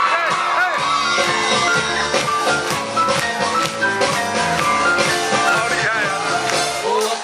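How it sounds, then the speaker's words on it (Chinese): At an outdoor garden-party concert, a crowd claps along and shouts and screams over loud live music while a singer performs, the cheering dense and continuous throughout. "打拍子加掌声加尖叫"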